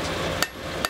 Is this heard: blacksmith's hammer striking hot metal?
yes